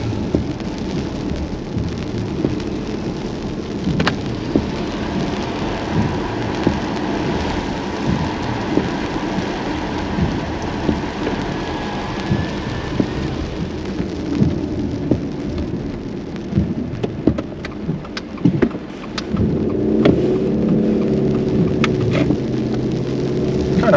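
Heavy rain pours steadily around a car in Spring Hill, Florida, with low rumbles of thunder rolling through and no voices, a dense continuous wash throughout.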